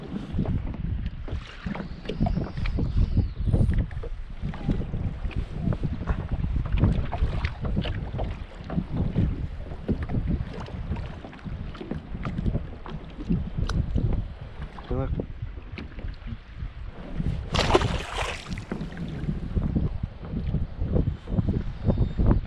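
Wind gusts buffet the microphone in steady low rumbling bursts while walleye fishing from a kayak on open water, with no voices.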